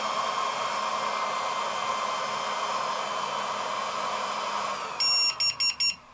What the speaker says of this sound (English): Oh, there's the beep.